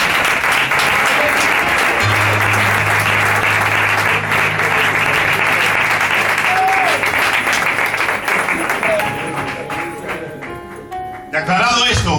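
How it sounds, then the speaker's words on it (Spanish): A church congregation applauds loudly and steadily for about nine seconds, with keyboard tones underneath, before the clapping fades out and a few voices are heard. "Denle un fuerte aplauso al Señor."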